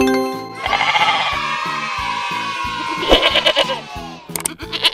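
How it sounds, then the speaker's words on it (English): A goat lying under a sheet gives a long, loud, wavering bleat from close by, followed by shorter broken bleats, with faint rhythmic knocking underneath. "It's the goat."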